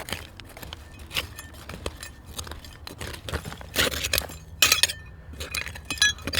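Broken old bar glass from about 1905, dug out of a woodland dump: scattered sharp clinks and rattles of glass shards knocking together, close, irregular, with scraping and handling noise between them.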